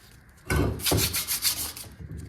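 Close, loud rasping strokes of 220-grit sandpaper smoothing a part from a 351 modified engine, a quick series of back-and-forth rubs lasting under two seconds, no talking.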